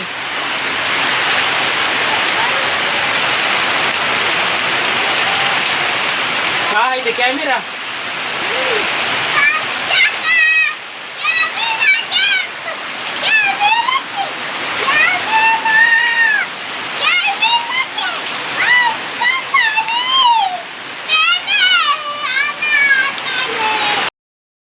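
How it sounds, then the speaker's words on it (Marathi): Heavy rain pours steadily at first, then continues beneath people talking for most of the rest. "साईडला जोरास पाऊस पडायला लागला आहे"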